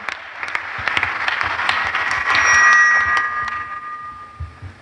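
Applause and acclamations from a church congregation during a Catholic service in Simbandi-Balante, dense steady clapping that swells in the middle with a few high shouts, then thins out toward the end.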